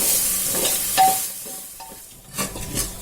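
Broken wheat sizzles while it is stirred in ghee for payasam, with a soft continuous frying hiss and intermittent scraping stirs close by, with no talking.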